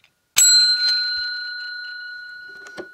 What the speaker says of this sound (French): je me suis acheté la petite sonnerie